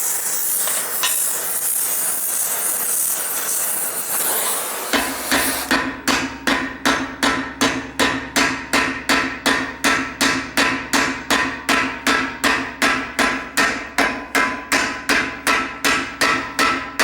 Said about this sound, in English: She hammers more than us old men do, so let her do the hard work.